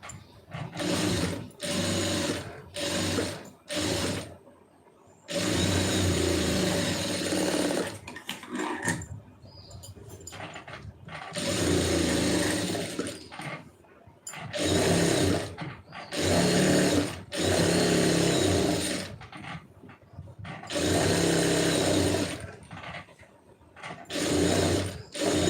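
A sewing machine stitches lining cloth in repeated bursts of loud, fast whirring, each running a second or a few seconds, separated by brief quiet pauses.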